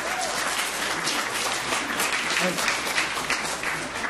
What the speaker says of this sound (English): let's please give everyone a hand of applause